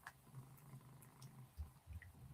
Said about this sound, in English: I don't know if you can hear him purring away